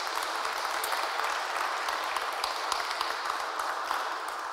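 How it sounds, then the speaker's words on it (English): A conference audience at Digital Europe 2024 breaks into a short, steady round of applause, dense crowd clapping with a few sharper claps standing out near the front. "A huge round of applause for Barbara Malinovská as well"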